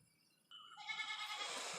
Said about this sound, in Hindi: पहले इस बकरी को बांधो। मेरा सारा पालक चबा रही है।